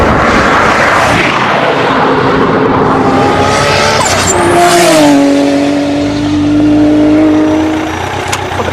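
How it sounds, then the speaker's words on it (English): A Toyota Supra and a Lamborghini race side by side, their engines roaring loudly and close. Turbo boost builds as the revs climb through rising pitch sweeps, with tire squeal and rushing noise throughout. "The Supra allows the Lamborghini a little bit of a jump, knowing that it's got enough horsepower to chase it down"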